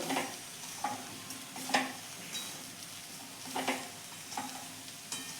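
Potato poha being gently mixed in a pan, with soft scraping strokes at an irregular rhythm over a faint background sizzle. The sound is quiet and close, with no speech.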